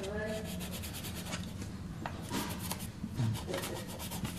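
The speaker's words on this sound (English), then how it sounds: "It doesn't take much to sand this red putty down." Quiet, close scratchy rubbing strokes of a small sanding stick on red putty on a scale model repeat irregularly over a soft background hiss.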